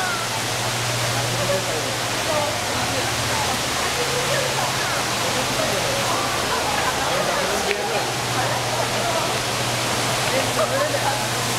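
Waterfall in a cloud forest pouring from high above, a steady, dense roar of falling water filling the scene throughout, with a low hum underneath and faint voices in the background.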